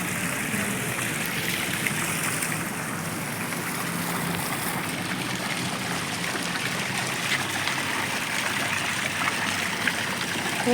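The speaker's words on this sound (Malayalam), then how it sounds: "വെള്ളം പൊങ്ങുന്നത്" Steady rushing water flows continuously, a constant gushing hiss with no voices, fairly close and even throughout.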